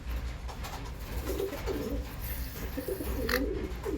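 A baby pigeon coos softly and repeatedly just before hand feeding, its low murmuring calls steady and close against a faint background hiss.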